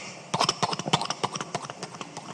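A horse ridden away at speed, hooves clip-clopping in a quick, steady run of sharp, close strikes, carrying on alone without voices.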